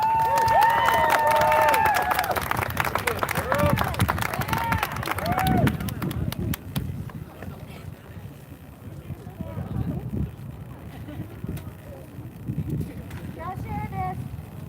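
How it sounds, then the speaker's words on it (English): An audience applauds with scattered cheers and crowd noise, loud at first and then thinning out, while voices talk over the rest. "So let's give them a round of applause."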